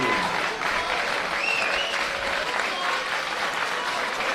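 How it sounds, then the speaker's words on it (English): Football fans at a State League Division 1 grand final applauding a substitution for Olympic Kingsway, with steady, full crowd clapping throughout and faint voices mixed in. "fans will once again applaud"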